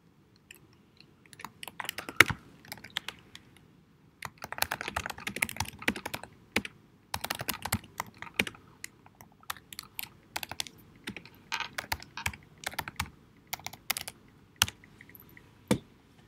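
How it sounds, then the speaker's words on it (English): Keys clatter on a computer keyboard in irregular bursts of quick, close taps with brief pauses between them. There is no talk. "Ah, she's typing something."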